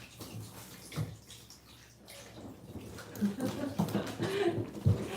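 Running water splashes and gurgles during a difficult dog's bath at a grooming session, a steady wash with louder bursts toward the end and no speech over it.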